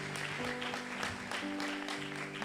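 A church congregation applauds God in a soft, continuous wash of clapping, with a faint sustained musical tone underneath.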